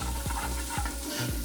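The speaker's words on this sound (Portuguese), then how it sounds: "Vou jogar aqui esse alho, acho que tem uns 3 dentes de alho." Chopped onion and garlic fry in pork lard in a pan, a steady close sizzle broken by three scraping stirs of a spoon across the pan bottom.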